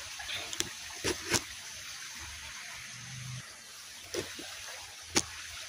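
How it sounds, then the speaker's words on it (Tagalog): A creek flows with a steady, broad rushing hiss at moderate distance, broken by a few sharp knocks and splashes, with no talking. "Yung sapa."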